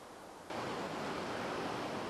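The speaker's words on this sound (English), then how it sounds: "Behind me is the Lervay Creek." Lervay Creek flowing near the Perseverance Mine outside Juneau, Alaska, a broad steady rushing of water that jumps louder after a half second and then holds constant.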